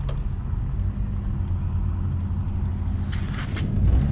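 Car driving on the road, a steady low engine and road rumble filling the interior, with a few faint rattles and clicks over the continuous drone; no talking.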